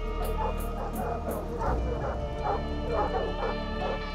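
Hound dogs barking, yipping and whimpering at a cougar treed in Western Canadian wilderness, a busy overlapping chorus of sharp barks and whines that continues steadily through the clip, fairly close and loud.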